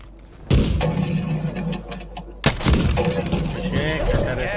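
Gunfire in a battle royale video game, with two loud bursts of rapid shots and cracks followed by rattling and debris noise, close and dense, a voice briefly audible in the mix.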